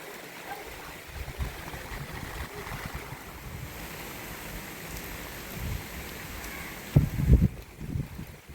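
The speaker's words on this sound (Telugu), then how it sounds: "సో ఫ్రెండ్స్ వర్షం అయితే బాగా పడుతుంది." Heavy rain pours down in a steady broad rush, close and continuous, with a few louder thuds and splashes near the end and no talking.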